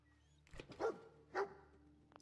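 A dog companion in the video game Fallout 4 gives two short, clear barks about half a second apart, moderately loud over a quiet hum of game ambience.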